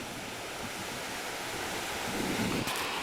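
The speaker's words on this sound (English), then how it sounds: "You're going to see some really big waves in a minute." Ocean waves and wind at North Seymour Island in the Galapagos make a constant broad roar of surf and gusting air buffeting the microphone, swelling slightly toward the end with no voices.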